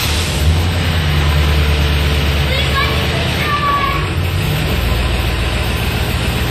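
A Corvette C4 engine hums continuously from inside the moving car, a steady low rumble mixed with road and wind noise. A voice talks over it.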